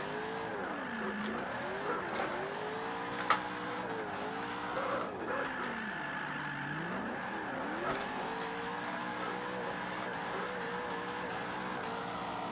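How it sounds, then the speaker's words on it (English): A V8 car drifts in the video game Forza 5, the engine revving up and down in repeated swoops over a continuous tire hiss, with one brief sharp click midway. "the V8 is just a perfect engine to drift with"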